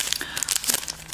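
Close, busy crinkling and rustling of a small plastic bag as a NYX eyeshadow blending crease brush is unwrapped, with quick irregular crackles and no talking.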